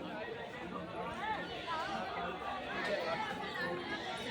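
Crowd chatter at a Jiutiya puja gathering, many voices murmuring and overlapping in a busy, steady hubbub that fills the whole stretch without a break.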